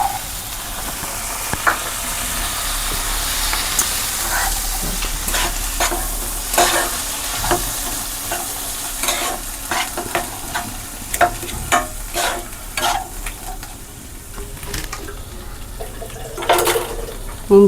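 Green peas dropped into a frying pan for matar paneer, then stirred with steady spoon scrapes and clinks over a continuous loud sizzle, close up.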